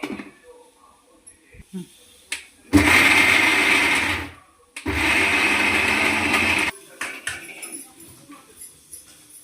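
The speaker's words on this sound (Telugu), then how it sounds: "కొంచెం జీలకర్ర వేసుకొని మిక్సీ పట్టుకుందామమ్మా" Mixer grinder whirring loudly through two bursts of about two seconds each, grinding garlic cloves with cumin, with brief pauses and quieter handling noises around the runs.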